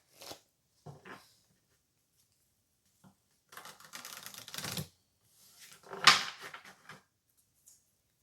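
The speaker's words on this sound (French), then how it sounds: "on va se prendre pour finir une petite carte de l'oracle de Lucie" Oracle cards shuffled and drawn by hand, heard as short, crisp riffling and snapping bursts with quiet gaps between them, close and fairly soft.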